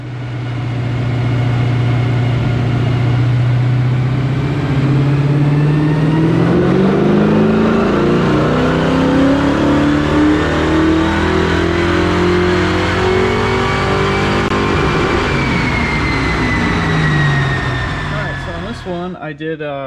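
A cammed, naturally aspirated 4.6L 2V Ford Mustang GT revving hard on a dyno, loud and close, its pitch climbing steadily through a long pull before cutting off at the end.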